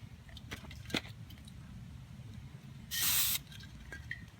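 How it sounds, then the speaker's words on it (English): An aerosol spray can sprays adhesive in one short, loud hissing burst of about half a second, standing out clearly above a low background rumble, with a few faint clicks and taps before it. "I didn't check the nozzle and spray it off to the side"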